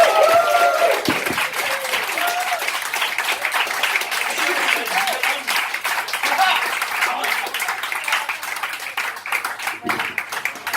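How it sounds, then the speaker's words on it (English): A bar crowd gives hearty applause after a stand-up comedy set, steady dense clapping that carries on for several seconds, with a voice heard briefly at the start. "Another round of applause, I think."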